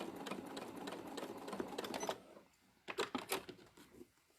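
A sewing machine tying a couple of small knots during free motion quilting: a rapid run of stitching for about two seconds, a brief pause, then a short second burst of quick needle strokes, fairly close.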